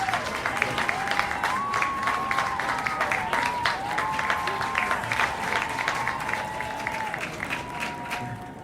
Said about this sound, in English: You don't need to applaud.